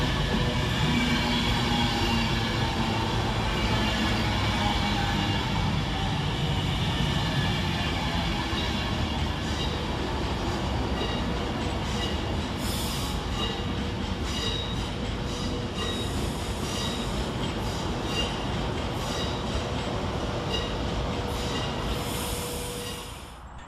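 An Avanti West Coast express, the Manchester Piccadilly to London Euston service, rushes through Stockport railway station, loud and close, with a sustained roar of wheels on rail and squealing that stays steady before easing off at the end.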